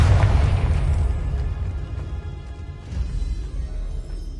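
A Confringo spell explodes in the video game Hogwarts Legacy as a loud, deep blast that opens sharply and rolls on as a rumbling, crackling boom, with a second swell of rumble near the end.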